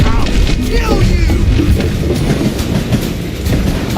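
Train rolling along tracks in the Call of Juarez: Gunslinger video game, a loud, steady rumble with rhythmic clickety-clack of wheels, continuous and close throughout.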